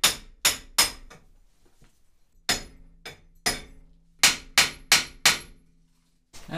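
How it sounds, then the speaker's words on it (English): Hammer blows striking a stuck front fork on a BMW E36/5 323ti suspension, sharp metallic impacts in irregular groups, loud and close, with short pauses between bursts. "I started hammering it and it moved"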